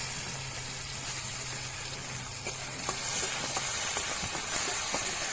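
Onions sizzle and crackle in a pan of cumin-seasoned oil, a steady frying hiss with scattered pops and stirring scrapes, growing slightly louder partway through, with no one talking.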